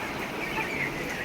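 A flock of 21-day-old broiler chickens clucks softly while eating feed in their shed, a continuous low murmur of overlapping faint clucks at a distance.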